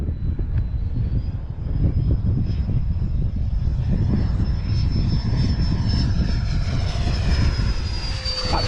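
A Sebart Fiat G-91 electric ducted fan model jet makes a high speed pass, its loud, steady rushing whine holding throughout with a thin high-pitched fan tone rising and sliding as it flies by.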